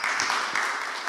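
Audience applause at a World Food Day event, a dense, steady burst of many hands clapping at once, filling the short moment without talk.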